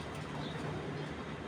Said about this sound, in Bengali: আমি 2টা কবুতর আটকে এই ভিডিও করতেছি।